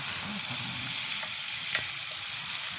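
Fresh banana heart sizzles steadily as it is sautéed and stirred in a hot pan, a continuous close frying hiss with occasional soft scrapes and no talking.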